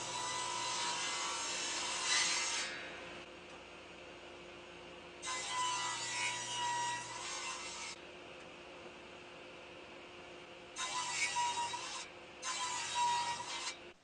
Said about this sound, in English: To join the corners of the bracket, I'm just making some bridle joints with my quickset tenon jig.